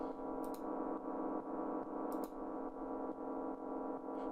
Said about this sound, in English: delay making the space a little bit, and reverb really give this outer space effect